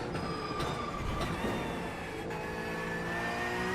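A Porsche GT3 race car engine drones and climbs in pitch while driving at Suzuka in a racing video game, a steady close tone with gear-change dips and rising whine.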